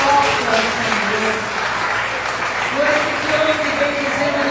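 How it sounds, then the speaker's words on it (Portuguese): A church congregation claps together in a sustained, dense wash of applause. Voices sing or speak underneath, and the clapping holds steady throughout. "Vamos aplaudir com alegria ao nosso Senhor."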